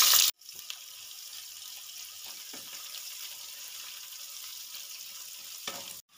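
Finely chopped onion frying in oil with tempered spices for veg pulao, a steady close hiss of oil with a few faint stirring scrapes, framed by brief loud bursts at the start and end.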